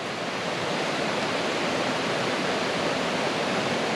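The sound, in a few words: deep stream water flowing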